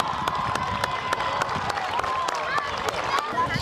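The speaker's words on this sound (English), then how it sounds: "a round of applause" Sustained audience applause with scattered cheers and voices fills the room at a school Veterans Day assembly in Bergenfield, honoring veterans, with steady dense clapping throughout.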